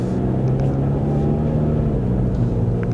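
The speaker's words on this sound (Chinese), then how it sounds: "我还是隐隐约约听到一点点它的这个排气声浪啊" GAC GS3 Emzoom 1.5L turbo SUV being driven with its exhaust valve open, giving a steady low engine and exhaust drone under cabin road rumble, subdued rather than loud throughout.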